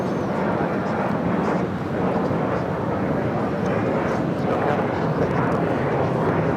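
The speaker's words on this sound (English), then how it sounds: "This is Alaska Horizon 2150 taking off to San Francisco on the E175." Embraer E175 regional jet of Alaska Horizon taking off at LAX bound for San Francisco, a steady loud roar of jet engine thrust sustained throughout, with a voice talking over it.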